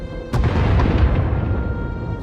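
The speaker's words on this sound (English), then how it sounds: "Sounds like the bombing's getting closer." Bombing explosions rumble in Star Wars: The Old Republic on Ord Mantell, a sharp blast followed by a long, heavy rolling boom that slowly fades, with no voices.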